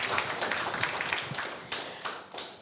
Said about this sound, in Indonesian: Kita berikan tepuk tangan bersama.